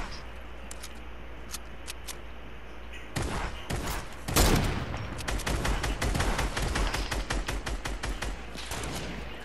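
Gunfire in a video game firefight: after a quiet start, loud rapid bursts and shots break out and keep going in fast succession, close and intense.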